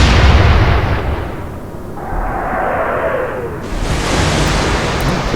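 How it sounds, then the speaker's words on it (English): Naval guns firing in the Atlantic Fleet warship game, a loud booming blast at the start that rolls into a long rumbling decay, with a second surge of broadband noise near the end. "Open fire. Fire!"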